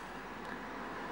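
Steady road traffic noise on a seafront, a continuous broad wash of passing vehicles at moderate distance with no distinct events and no voices.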